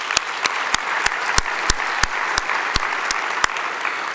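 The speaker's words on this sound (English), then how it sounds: "let's just give them a round of applause" Audience applause at a convention opening plenary awards session, dense continuous clapping with a few sharp, louder individual claps standing out at regular intervals, no talk over it.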